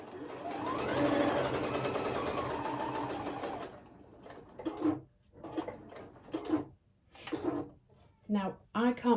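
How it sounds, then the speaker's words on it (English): Sewing machine running steadily for about four seconds while top stitching around the edge of a fabric bookmark, then stopping; a person talks afterward in short bursts. "we're going to top stitch around the edge, which will then hold in place that little gap there"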